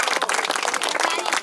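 Dense, lively clapping from a village gathering applauding the children at a small chapel, loud and close with rapid overlapping claps and some crowd voices mixed in.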